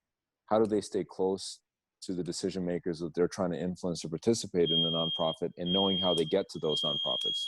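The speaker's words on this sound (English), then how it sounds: "that's my fire alarm for some reason" A home fire alarm sounds a steady, piercing electronic tone that starts partway through and keeps going under continuous conversation.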